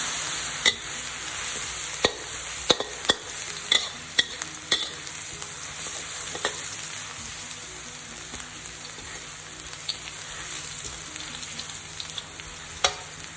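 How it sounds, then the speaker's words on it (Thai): Steady sizzle of garlic frying in hot oil with scattered sharp scraping clicks of a utensil stirring in a pan, continuous and close, no voices. "เราจะตั้งกระทะใส่น้ำมันและ รอจนน้ำมันร้อนแล้วจากนั้นเราก็จะใส่ กระเทียมลงไปผัด"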